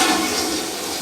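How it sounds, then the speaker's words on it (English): A toilet in a rental unit being inspected flushes with a loud, continuous rush of water, close by. "So we can do a quick flush"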